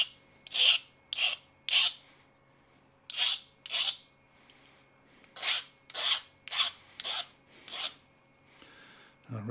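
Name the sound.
deburring cut metal pieces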